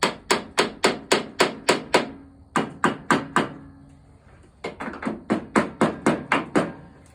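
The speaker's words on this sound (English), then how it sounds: "I'm using a ball peen hammer." A ball peen hammer striking an engine part makes sharp metallic taps in steady rapid bursts of about five to eight blows, close and loud, separated by short pauses.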